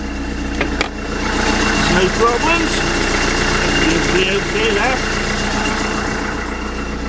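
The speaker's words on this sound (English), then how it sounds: "Just have a look at the engine." A narrowboat engine idles steadily in autumn, a close, constant low throbbing rumble with a faint mechanical rattle, while someone talks over it.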